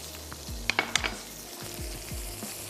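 Mutton gobi handi with cream and butter stirred in a hot pot: a soft, constant sizzle broken by a quick cluster of spoon clinks and scrapes against the metal, close and alone.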